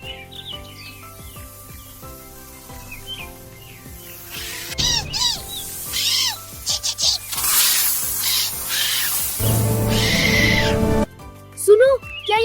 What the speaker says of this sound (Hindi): ये चिड़िया का बच्चा क्यों रो रहा है?